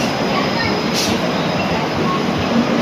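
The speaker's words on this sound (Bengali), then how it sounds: "আমাদের ট্রেন পদাতিক এক্সপ্রেস ঢুকছে। এই যে ট্রেন ঢুকছে দেখাই।" The Padatik Express train pulls into a platform at Sealdah station, a loud, continuous rumble of wheels and carriages filling the whole stretch with no pause.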